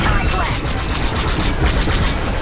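Rapid bursts of starfighter blaster fire crackle in Star Wars Squadrons, dense overlapping shots loud and close over a rumbling space-battle background, with faint voices mixed in.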